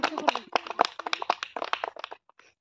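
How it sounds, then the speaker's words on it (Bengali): Children clap in a burst of quick, uneven hand claps at a girls' party game, close and fairly soft, tapering off into a few scattered claps. "হাততালি"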